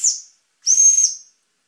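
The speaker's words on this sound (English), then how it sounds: "Here's the whistle." Whistle on a small operating demonstration steam engine, a short high hissing toot followed by a longer steady shrill blast, close and fairly loud, with no talk.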